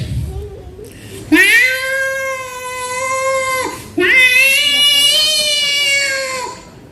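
A mimicry performer at a Kannada anniversary stage event imitates a cat with two long, loud, drawn-out meows, each rising then falling, separated by a short pause, voiced close and clear.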